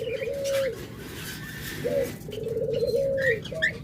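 Caged pet birds call close by, repeated soft cooing notes with a few brief chirps over a faint background hiss.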